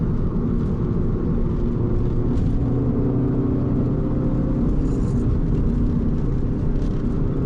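Steady, loud car engine drone with deep rumble on an Arizona road, continuous throughout, heard from inside or close to the car.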